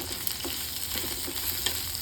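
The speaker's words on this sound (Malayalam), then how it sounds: "ഇനി നന്നായിട്ട് ഇളക്കി സവോളയും ഇഞ്ചിയും പച്ചമുളകും ഒക്കെ ചെറുതായിട്ട് വഴണ്ട് വന്നാൽ" Thinly sliced onion, ginger, green chilli and curry leaves fry for a chicken stew, making an even, dense sizzle heard up close, with faint stirring scrapes and no voices.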